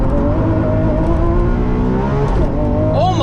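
A 2022 Lamborghini Countach launches hard under launch control, its engine roaring loud and close, rising in pitch through the gears.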